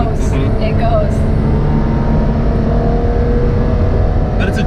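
A Ferrari F12 Berlinetta accelerates, its engine a loud, continuous roar heard steadily from nearby across the whole stretch.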